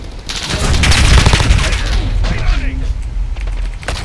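Gunshots in Call of Duty Modern Warfare HQ multiplayer, a loud dense volley of shots and booms with mechanical clatter, followed by scattered quieter shots and game sound effects.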